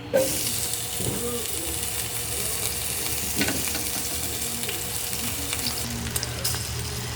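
Potato pieces frying in hot oil in a pan with black pepper, a steady close sizzle and crackle with light stirring clatter throughout.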